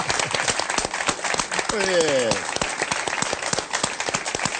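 Audience applause at a Puerto Cultura event with a well-known radio host: a dense, steady patter of many hands clapping throughout, with a voice speaking briefly over it.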